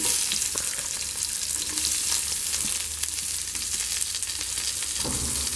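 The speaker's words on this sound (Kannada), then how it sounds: "ಎರಡು ಈರುಳ್ಳಿಯನ್ನು ಕಟ್ ಮಾಡಿಟ್ಕೊಂಡಿದ್ದೀನಿ, ಇದನ್ನು ಪ್ಯಾನ್ಗೆ ಸೇರಿಸ್ತೀನಿ." Chopped onions frying in hot oil in a pan with spices for a simple gravy, giving a steady, close, dense sizzle throughout with occasional stirring scrapes and no talking.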